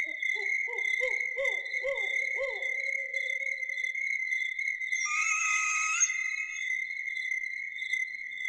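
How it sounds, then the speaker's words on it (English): An owl gives a run of about five quick, descending hoots at night, clear and moderately close, then falls silent. A steady, high chorus of crickets or insects trills throughout, swelling briefly near the end. "That's a pretty good owl sound."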